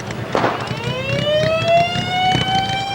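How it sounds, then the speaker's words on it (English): A loud wailing Ventura County Sheriff's car siren sweeps upward and holds a steady high pitch, with engine rumble and wind noise underneath. "Ventura Sheriff's red lights and siren and all that"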